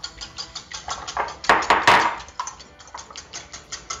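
Eggs are whisked in a bowl for a breakfast bowl, a quick rhythmic clatter of the whisk against the bowl's sides, close and fairly loud, steady throughout with a brief louder flurry in the middle.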